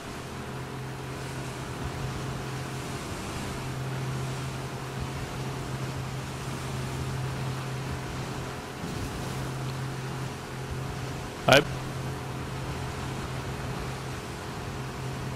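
A speedboat engine drones steadily over wind and waves in stormy weather in the video game The Last of Us Part II, with one sharp brief click partway through.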